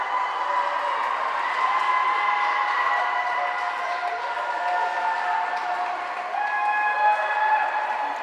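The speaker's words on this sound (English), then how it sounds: "See how everybody's cheering for her?" Spectators at a Salem versus Beverly high school swim meet cheer and shout continuously in a loud, echoing indoor pool hall, a dense sustained roar of many voices.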